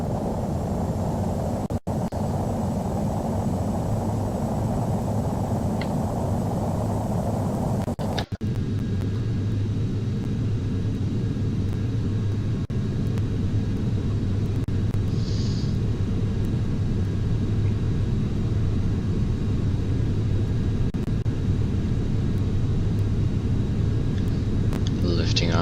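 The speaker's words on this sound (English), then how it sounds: "We are lined up at the runway and we're taking off." Aircraft engines roar at full takeoff power in Flight Simulator X, a steady droning rumble that continues throughout; a brief shift partway through alters the tone, and someone talks over the engine noise.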